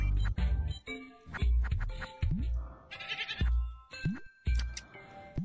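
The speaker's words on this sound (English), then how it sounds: "It's a sheep?" Sheep bleat in the video game Frost Bite 2, several short wavering cries in quick succession, close and clear among game sound effects.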